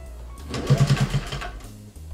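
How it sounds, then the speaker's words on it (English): A sewing machine stitches fabric for a guinea pig cuddle cup bed, its needle running in a short burst of rapid, even stitches at close range, with no talking. "backup stitch a few stitch, and then go forward."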